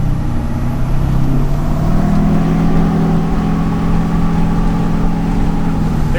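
Diesel pickup truck, an LBZ Duramax or 5.9 Cummins with a six-speed transmission, heard from the cab as it accelerates under throttle. The engine drone is loud and steady and rises in pitch, with subtle changes as it shifts gears.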